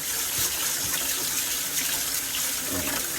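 Rice rinsed under running sink water, a loud continuous close gush of tap water with no talking.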